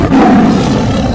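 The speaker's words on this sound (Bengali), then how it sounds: "এইটা হলো বাঘের আওয়াজ" A tiger's roar, loud and close, holds as one continuous growling blast for just over a second.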